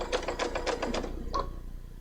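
A domestic sewing machine quilting, with a run of quick rhythmic mechanical stitching pulses followed by a brief stop and a faint click, heard close and fairly quiet.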